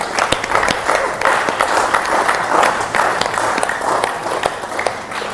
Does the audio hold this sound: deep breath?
no